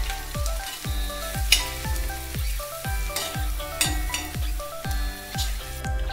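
Pav bhaji sizzles in a hot pan as spices and salt are stirred in, with a steady loud fry under repeated rhythmic scraping strokes of a spoon against the pan, close up and with no talking.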